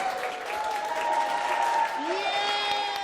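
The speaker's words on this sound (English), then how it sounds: "a room full of health professionals is cheering on colleagues throwing and dropping imaginary balls" A room full of health professionals cheers and applauds colleagues during an improv game of throwing and dropping imaginary balls, a steady wash of clapping and crowd noise with voices mixed in throughout.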